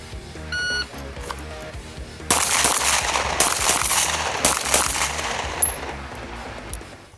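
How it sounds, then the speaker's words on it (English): Rapid 9mm pistol shots from a Ruger SR1911 Commander during a 2x2x2 modified El Presidente shooting drill, a loud burst of closely spaced cracks with no talk over them. "I got 1 shot out on that middle target"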